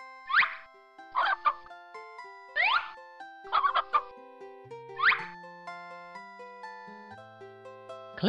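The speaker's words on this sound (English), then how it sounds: "6 hens jump up. See 6 hens land?" Cartoon hens in a Curious George phonics video game make six sharp springy jump sounds, spaced about a second apart, with a bright plucked melody of game music running underneath.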